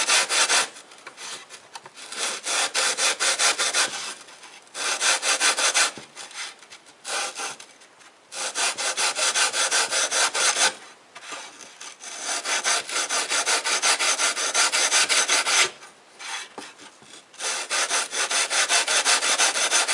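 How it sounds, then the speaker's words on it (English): Planer blade from a Porter Cable planer being sharpened against a moving stone in a jig, a harsh, close abrasive rasping in repeated strokes separated by short pauses. "put the stone on first, start moving the stone and bring the blade into it"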